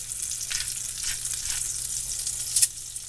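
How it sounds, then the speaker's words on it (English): A sirloin steak sizzles steadily in olive oil and butter, a close, even frying hiss with a few faint stirring swells and a brief sharp crackle near the end. "I'm cooking it in a little olive oil and butter."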